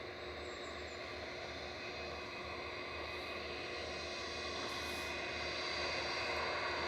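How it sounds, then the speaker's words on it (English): Eurowings Airbus A319 departing Manchester Airport, its engines a steady distant roar that slowly swells in loudness over several seconds, with no talking. "Eurowings 9341 to Dusseldorf, GAGWU departing, and A319."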